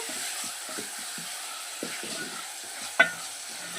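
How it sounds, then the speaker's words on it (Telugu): Tomatoes and four dried red chillies fry in a pan for garlic rasam, with a soft steady sizzle close by and repeated scraping stirs from a spoon. One sharp clink rings out near the end, and no one speaks. "ఈ టమోటాలను కూడా కొంచెం వేగనిద్దాము అలాగే ఒక నాలుగు ఎండుమిర్చిని కూడా వేసుకొని ఫ్రై చేసేసుకోవాలి"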